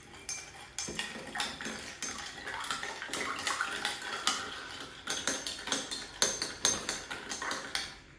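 Red wine and orange juice are stirred together in a glass, giving close, bright clinks and scraping taps in uneven bursts, with some liquid sloshing between them.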